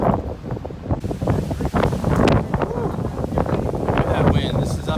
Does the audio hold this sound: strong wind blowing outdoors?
yes